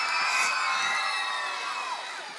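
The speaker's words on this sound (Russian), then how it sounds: "Аплодисменты, аплодисменты моим родителям." A live concert crowd in Moscow cheering and applauding, a dense steady wash of high-pitched shouts and whoops from many young voices that slowly fades.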